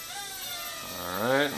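A Hubsan X4 H107L Special Edition quadcopter drone spins in a pirouette on low rates, its tiny motors giving a thin buzzing whine that rises in pitch and swells in loudness near the end.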